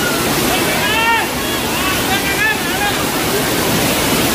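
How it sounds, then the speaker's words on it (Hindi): Water at the Rani Dahra waterfall in Chhattisgarh rushes and splashes in a loud, unbroken roar close by, with faint bird calls drifting through now and then. "जगह जगह पे पानी बह रहा है, पानी अच्छा खासा साफ है।"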